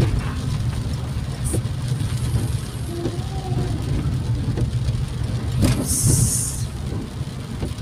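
Road traffic in the rain with cars passing close by, a steady loud engine rumble and tyre noise with a sharp hiss of a passing vehicle near the end.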